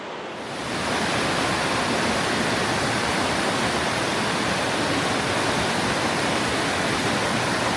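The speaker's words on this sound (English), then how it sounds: "Look at these little side waterfalls there." Small side waterfalls tumbling over rocks at Pontneathvaughan in Wales, a dense, continuous roar of rushing water that swells in over the first second and then holds steady and close.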